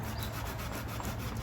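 Hand rubbing wax into painted wood, a close, quiet, continuous scrubbing with faint rhythmic strokes.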